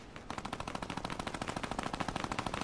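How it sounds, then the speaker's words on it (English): A minigun firing in Fortnite, a rapid continuous rattle of gunfire with an even, fast rhythm, loud and close, without speech. "This is where the minigun kid is."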